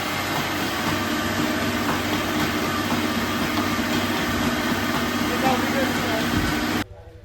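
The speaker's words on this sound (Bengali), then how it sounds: "ওই নিচে অ্যাম্পিয়ার লোড করলে মোটর সাউন্ড চেঞ্জ হয়" An old single-phase rice mill motor, a former ship motor, running under load with a dense, steady drone and hum that holds evenly, then cuts off abruptly near the end.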